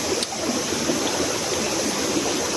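A river stream flows through a forest with a steady, loud, close rushing of water that continues evenly throughout, broken only by a faint tick, and no voices.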